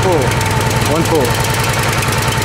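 A Honda engine on a 37-ton log splitter runs loudly and steadily with a rhythmic mechanical chug, close by, with a voice briefly audible over it.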